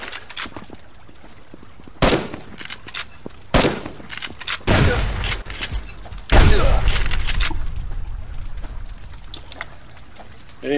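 Gunfire in the survival video game Subsistence comes as a few sharp, loud shots and short bursts spread unevenly through the clip, over a low noisy background with no talking.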